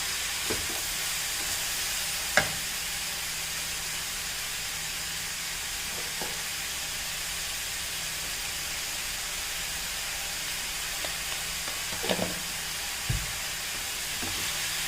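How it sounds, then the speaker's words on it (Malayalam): A mixed vegetable stir-fry (koottuporiyal) hisses and sizzles steadily in a pan, with an occasional soft knock or scrape of a spatula as it is stirred. "നമുക്ക് എല്ലാം കൂടെ നന്നായി ഒന്ന് ഇളക്കി യോജിപ്പിക്കാമേ"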